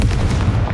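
Confringo fire blast spell exploding in Hogwarts Legacy, a loud, deep, booming burst that fills the whole brief moment with rumbling force.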